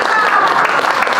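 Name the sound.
audience applause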